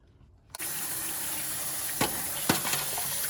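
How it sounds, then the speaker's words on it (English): Running water from a kitchen sink tap pours steadily while cockles are rinsed, with a few brief clinks and splashes of shells knocking about in the stream. "See how like the water, you can still get a lot of impurity out when you rinse them."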